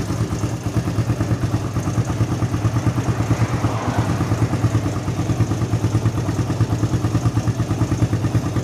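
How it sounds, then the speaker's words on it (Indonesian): A motorcycle engine runs steadily at idle while a mechanic checks the charging current from the regulator rectifier to the battery, a close, even mechanical chugging with a light clatter throughout. "untuk mesin sudah menyala"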